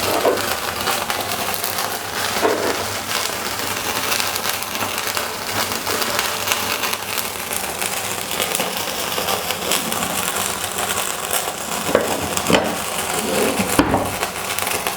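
Onions added to a hot pan for hari bhari bhindi, giving a steady, dense sizzle and crackle of frying that continues throughout with occasional louder pops and stirring scrapes.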